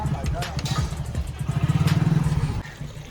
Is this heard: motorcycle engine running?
yes